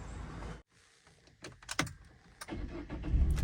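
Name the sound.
Peugeot 207 cc car engine starting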